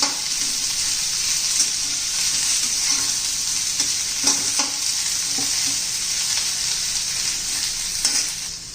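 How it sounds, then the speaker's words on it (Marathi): Onion sautés in a pan until browned, a dense, even sizzle close by with intermittent scraping strokes of a spatula throughout. "आता कांदा चांगला कलर येईपर्यंत आपण परतून घेऊ."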